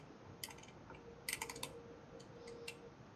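Clicks from a 12-position rotary switch stepping through its detents, a few sharp isolated clicks then a quick cluster of several, fairly faint against a steady background hiss.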